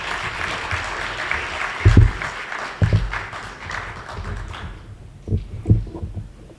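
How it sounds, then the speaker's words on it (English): Audience applause at the closing ceremony of the inaugural WorldSkills Barbados Juniors competition in 2019, a steady mass of clapping with a few louder thumps, thinning toward the end. "Could you give Kwan another round of applause, please?"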